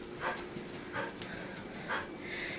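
Dogs pant and whimper close by in soft, quiet bursts, a few breathy huffs and short high whines spaced about a second apart.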